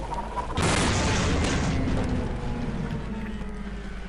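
A crystal is shot and shattered in Half-Life, a sudden loud booming burst that rolls into a sustained rumbling roar and fades slowly.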